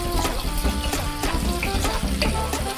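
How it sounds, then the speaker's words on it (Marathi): Onion frying in a pan for a Maharashtrian wild-vegetable bhaji: a loud, continuous sizzle with repeated scraping stirs, no voices. "इथे आता आपला कांदा शिजत आला आहे"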